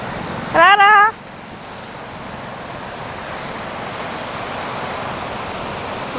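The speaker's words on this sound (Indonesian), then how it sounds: "ini ombaknya besar" Large ocean waves at a beach, a constant broad roar of surf that fills the whole stretch, loud and close, with a brief voice at the start.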